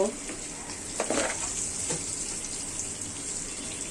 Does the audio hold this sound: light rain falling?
no